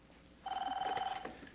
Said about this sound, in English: I gotta answer the phone.